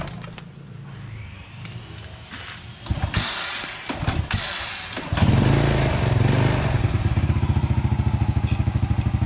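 A motorcycle engine with a repaired stator cranks with clattering attempts, then catches about halfway through and settles into a loud, steady, close idle.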